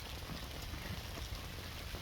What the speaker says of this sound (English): And it started raining just about the time I got all set up here.